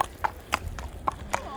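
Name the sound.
horse hooves clip-clopping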